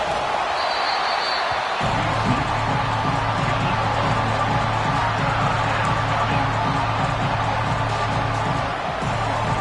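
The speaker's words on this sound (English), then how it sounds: "Listen to this crowd just shaking the girders of this place, trying to help their defense." Stadium crowd at a college football game, Texas vs Auburn, roaring in a dense sustained wall of noise that shakes the venue, steady and loud throughout with a low rhythmic chant-like pulse underneath.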